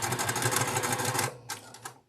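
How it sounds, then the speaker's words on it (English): Domestic sewing machine chain piecing quilt blocks runs in a steady, rapid stitching rhythm for just over a second, then stops, followed by a couple of faint clicks and handling sounds. "And now I will chain stitch the rest of them, or chain piece."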